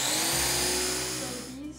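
Wheat berries ground into flour by a motorized grinder, a loud, steady, high whirring drone heard close up for under two seconds, with a voice faintly underneath.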